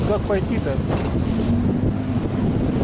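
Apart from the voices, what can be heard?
wind blowing on a sandy shore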